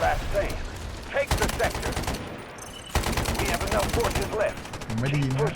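Bursts of automatic gunfire from the Delta Force video game, rapid crackling volleys repeating through most of the stretch, loud and close, with voices talking at moments in between.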